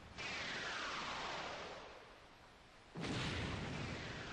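A massive goddess beam fired across the ocean in Zelda: The Wind Waker HD, heard as a sustained roaring whoosh that fades, then a second loud blast surging in, with no voices.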